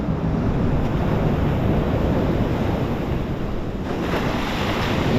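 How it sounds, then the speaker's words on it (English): Ocean surf surges and rolls onto a beach in a continuous loud wash of broadband noise, with wind buffeting the microphone and no voices. "And we got waves."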